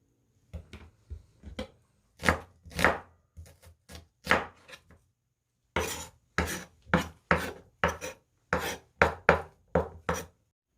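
An onion being sliced with a knife on a cutting board, a series of crisp, close cuts: a few light strokes, then sharper rhythmic chops after a brief pause, each a short bright crunch.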